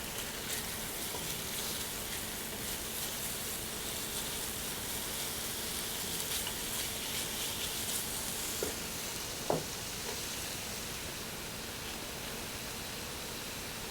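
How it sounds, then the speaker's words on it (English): Bacon sizzles in a frying pan as it is stirred, giving a steady hiss throughout with a few soft clinks and scrapes from the stirring. "Give the bacon a stir here"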